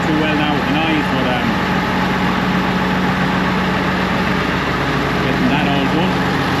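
A 638 tractor engine running steadily at close range while being refuelled on a baling day, a loud continuous diesel drone with someone talking over it.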